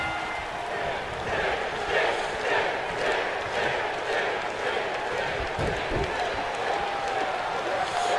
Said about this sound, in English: You hear the chants of Sting coming from the audience.